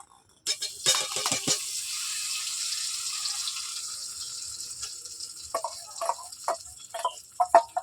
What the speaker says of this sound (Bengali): দেওয়ার পর আমি ডালটাকে তেলের মধ্যে নেড়ে ছেড়ে ভালো করে ভেজে নেব